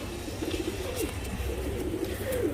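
Tournament racing pigeons coo close by, with several soft, rolling coos repeating over a steady background hum and no talking.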